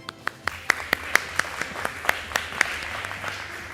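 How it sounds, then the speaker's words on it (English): A conference audience gives applause for awardees: sparse, distinct hand claps at an irregular pace, fairly near, over a quiet room hum. "A grand applause to all the esteemed awardees"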